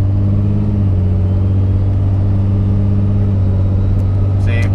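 A Cummins pickup truck with a 48RE automatic transmission slows down and shifts gears, its loud, steady engine drone filling the cabin with a low constant hum.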